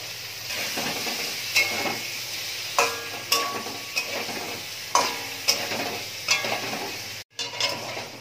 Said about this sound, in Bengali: ওটাতেই পনিরটা একটু হালকা করে একটু ভেজে নেব